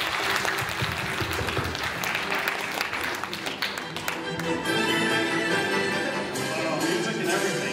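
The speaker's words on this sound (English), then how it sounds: "Let's warm welcome them. Applause," An audience at a North American e-commerce business forum claps in sustained applause, a dense crowd patter fading slightly toward the end.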